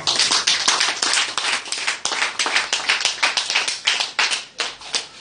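A church congregation claps together in praise during a Bible study and prayer gathering, a dense, steady run of loud hand claps with a slightly uneven rhythm, filling the whole moment with no talking.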